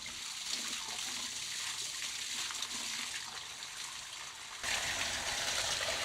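Riley Creek, a healthy stream, flows steadily with a constant broadband rush and babble of water, close and even throughout, briefly louder near the end.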